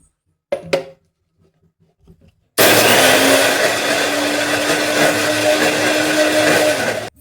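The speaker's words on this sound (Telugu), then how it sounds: "ఇంకా ఇదైతే మిక్సీ పట్టేసుకోవడమే" A kitchen mixer grinder whirs loudly and steadily for several seconds, grinding garlic, chili and rock salt, after a few brief knocks and handling sounds.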